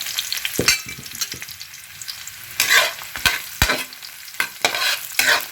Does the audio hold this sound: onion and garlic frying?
yes